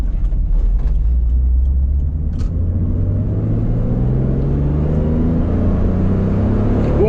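A Toyota Supra engine pulling hard in second gear, a loud, close, continuous rumble with rising harmonic tones as revs climb steadily throughout.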